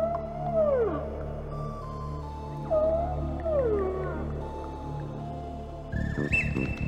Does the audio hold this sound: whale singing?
yes